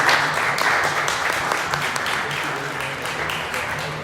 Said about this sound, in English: Can you please give an applause to